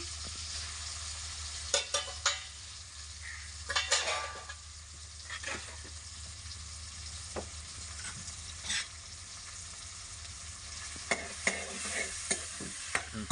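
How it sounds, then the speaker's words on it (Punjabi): Chopped onions and tomatoes dropped onto browned cumin in a pan for stuffed capsicum, sizzling steadily while a spoon stirs with intermittent scrapes and clinks against the metal. "ਪਿਆਜ਼ ਕੱਟ ਕੇ ਰੱਖੇ ਤੇ ਕੁੱਟ ਕੇ ਰੱਖੇ ਨੇ ਇਹਨਾਂ ਨੂੰ ਪਾ ਲੈਣੇ"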